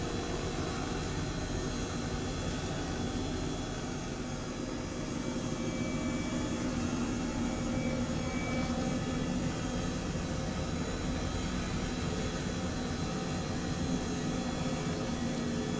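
A helicopter in Microsoft Flight Simulator gives off a steady, unbroken engine and rotor drone at an even, moderate level throughout.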